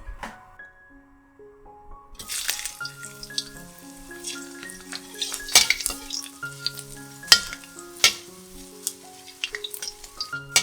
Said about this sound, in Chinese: 倒入适量的油，待油热后放入姜片炒香